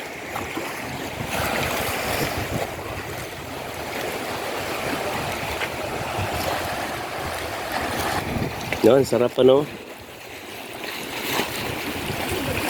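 A big river flows steadily in a continuous broad wash of moving water, with people chatting and laughing now and then over the current.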